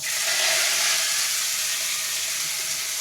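Red leaf curry with spluttered mustard seeds fries in a pan, giving a steady, dense sizzling hiss that holds throughout with no voices.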